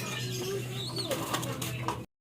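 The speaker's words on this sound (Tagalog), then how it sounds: "Mga kalapatids" Racing pigeons coo softly and close by, a low murmuring call over a faint hum, lasting about two seconds before the sound cuts off.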